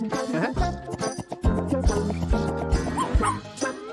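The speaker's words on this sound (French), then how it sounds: "Regarde, un bébé chien." A puppy yips and barks repeatedly in high, excited bursts mixed with whimpers, close and loud, with a faint jingle underneath.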